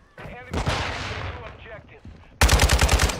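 Automatic gunfire in Call of Duty: Modern Warfare 2, with sharp bursts early, then a loud, rapid machine-gun volley of evenly spaced shots close up at the end.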